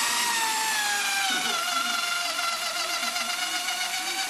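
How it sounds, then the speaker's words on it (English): An electric sander works steadily against a surface, a continuous high whirring buzz with shifting tones and a faint rhythmic scrape underneath, close and fairly loud throughout. "then gets to work with an electric sander."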